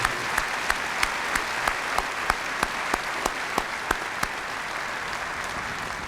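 Steady, evenly spaced claps ring out in a graduation ceremony honoring the class of 2023, a slow rhythmic beat of single claps over a diffuse wash of crowd noise, moderately distant.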